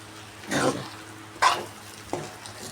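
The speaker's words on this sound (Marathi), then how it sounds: "आता ओला नारळ टाकला ना नुसतं परतायचं वर खाली आणि बंद करायचं गॅस" Okra masala with freshly grated coconut is stirred in a pan with a spatula, giving three soft scraping and sizzling strokes spaced about a second apart over a faint steady background.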